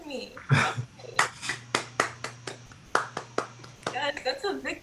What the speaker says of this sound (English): Clap with me. Clap with me. Clap with me.